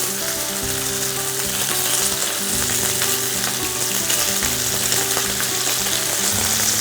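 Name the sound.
bacon frying in oil in a paella pan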